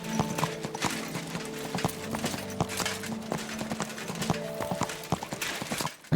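Horse hooves clip-clopping at a slow walk in the video game Kingdom Come Deliverance 2, a steady rhythmic series of close hoof knocks over soft ambient music tones.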